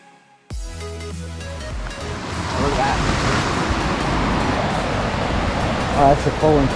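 A raging river rushing near a waterfall at Whistler in autumn, a loud broad roar of churning water that bursts in suddenly after a quiet start and holds steady, with wind buffeting and people talking over it.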